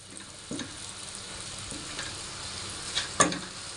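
Garlic and onion sautéing in a pan, a continuous soft sizzle broken by a few stirring clatters and a sharper utensil knock near the end.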